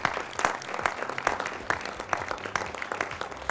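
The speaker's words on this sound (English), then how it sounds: "I'm sure you can give another round of applause for us." A television studio audience of students claps for a Ghanaian TV3 live programme, with brisk, uneven hand claps spread across the whole clip at a moderate, fairly close level.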